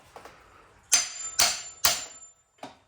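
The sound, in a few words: framing hammer striking fan clutch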